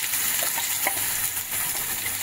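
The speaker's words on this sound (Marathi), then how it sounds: "तर चांगला आपण हा मसाला भाजून घेऊया ना अगोदर तेलात." Homemade ground masala paste roasts in hot oil after a garlic tempering, a dense, even sizzle close to the pan with faint stirring and no voices over it.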